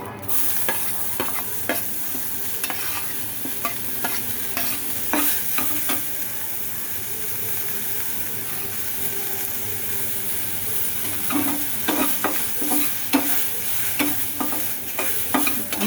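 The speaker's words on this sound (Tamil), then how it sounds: "இது நான் வதக்கிட்டு போட்டால் நல்லா சீக்கிரம் அடை வேகும்" Vegetables sauté in a little oil in a pan, lightly cooked for adai batter, with a continuous close sizzle and hiss. A spoon scrapes and stirs in scattered clicks, with no talk.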